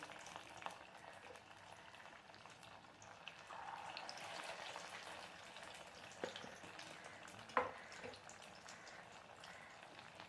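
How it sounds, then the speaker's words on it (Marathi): Upvas vadas deep-frying in hot oil, a steady soft bubbling hiss held at a low level for about ten seconds, with a sharper clack or crackle near the end. "अशाच प्रकारे बाकीचे वडेही मी तळून घेते"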